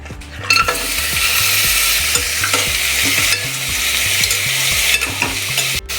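Mutton pieces for keema curry hiss and sizzle loudly in a hot pan while being stirred, with repeated scraping strokes and a clink of a utensil against the pan.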